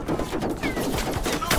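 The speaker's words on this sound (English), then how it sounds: "The sentry gun's got me trapped" Sentry gun fire in a Call of Duty match, a short dense burst of rapid shots rattling without pause, close and loud for under two seconds.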